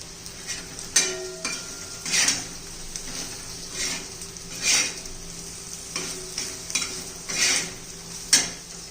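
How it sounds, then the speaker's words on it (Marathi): Spiced brinjal fry with red chili powder and garam masala is stirred in a pan: a spatula scrapes and clinks in repeated strokes every second or two over a soft, steady sizzle. "व्यवस्थित मिक्स करून घेऊया"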